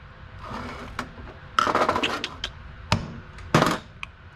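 A few light, sharp metallic taps strike a Weber progressive carburetor part during a rebuild, spaced irregularly, close up and without talk.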